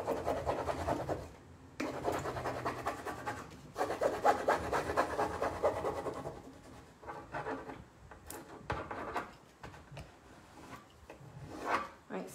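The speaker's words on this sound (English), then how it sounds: "we're gonna just rub our flower on with our transfer tool, or the wooden stick that comes with the transfer is perfectly fine too" A decoupage flower transfer being rubbed down with a wooden transfer stick, giving close, dry scratchy strokes in several long bursts separated by short pauses.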